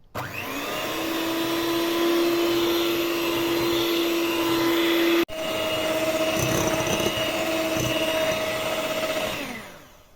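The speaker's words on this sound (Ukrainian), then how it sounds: "не менше 5 хвилин ми це збиваємо до того стану, поки не зіб'ється і сахар, і яйце" Electric mixer whisking eggs and sugar for a grape pie batter, a steady loud motor whir with a constant tone that shifts pitch midway after a brief cutout, running alone throughout.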